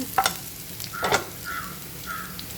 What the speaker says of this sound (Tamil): நல்லா இப்படி ஃப்ரை பண்ணணும் பூண்டை பூண்டு நல்லா செவக்கணும்